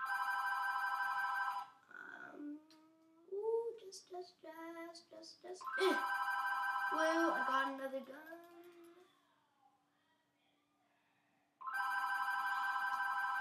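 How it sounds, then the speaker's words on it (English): A telephone rings in loud repeated bursts at the start and again near the end, with a voice talking in between over a quieter background. "Shut up, phone!"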